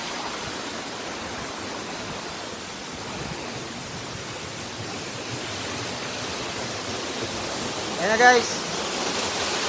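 Cacao Falls waterfall roaring as a steady broadband rush throughout, with a voice speaking briefly over it near the end.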